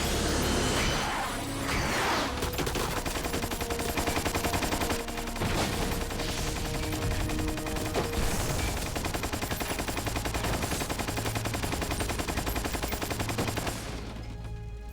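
Rapid bursts of gunfire and machine-gun fire from the Metal Gear Solid 3: Snake Eater video game, loud and almost continuous for the whole stretch, with a few whooshes mixed in.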